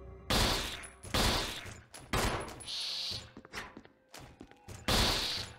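Rapid bursts of pistol gunfire in the Resident Evil HD Remaster video game, several loud shots in quick clusters with brief gaps between volleys, no talking.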